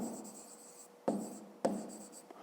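A pen writing an equation by hand on paper, with soft scratchy strokes and a couple of sharper taps as new marks begin, close and quiet over a short span.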